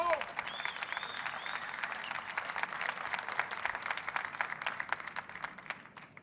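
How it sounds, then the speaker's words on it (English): A snooker crowd at the Saudi Arabia Snooker Masters final ceremony applauds steadily, a dense, moderately distant patter of many hands that runs throughout and eases off near the end. "A round of applause, please"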